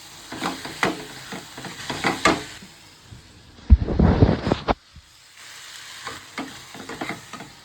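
Taro leaves with shrimp frying in a pan, a steady close sizzle with scattered stirring clatter and one louder burst of crackling midway.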